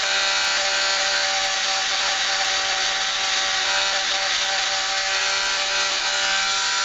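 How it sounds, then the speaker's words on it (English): A Dremel rotary tool grinding a part of a 1911 pistol, giving a steady, continuous high-pitched whine with abrasive scraping that runs unbroken throughout at close range, with no talking. "Let the Dremel do the work."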